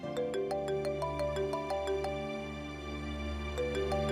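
A phone rings indoors in a household drama scene, playing a repeating electronic melody of short bright notes over a low steady hum.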